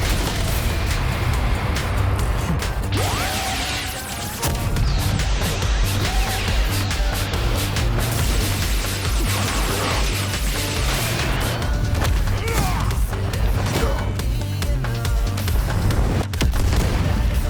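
Loud, dense crashes and booming explosions as a pod is destroyed in an animated Omni-Man versus Bardock battle, with continuous rumbling impacts and debris over a heavy low drone throughout.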